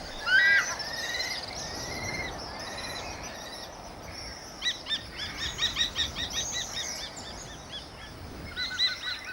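Kestrels calling along a cliff face, a series of sharp, rapid repeated shrill notes in bursts, some close and loud, others fainter, over quiet wind-like background.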